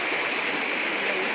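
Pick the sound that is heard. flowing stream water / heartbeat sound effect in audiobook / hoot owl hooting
flowing stream water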